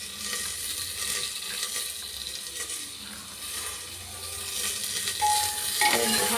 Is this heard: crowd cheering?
no